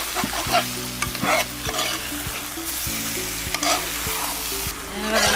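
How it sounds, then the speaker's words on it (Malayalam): Prawn roast being stirred as it fries in a pan, a steady sizzle broken by repeated scraping and clinking of a spoon against the pan at an uneven pace, close and clear. "കൊഞ്ചി ഏകദേശമായി ഇതൊന്ന് ഇളക്കണം നല്ല വരക്കണം"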